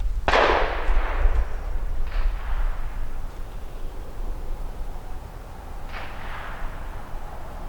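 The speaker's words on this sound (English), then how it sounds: "38 special out of the snub nose, 7 yards," A single .38 Special round fired from a snub-nose revolver at 7 yards on an outdoor range: one sharp, loud crack that decays quickly, followed by a couple of fainter, more distant shots.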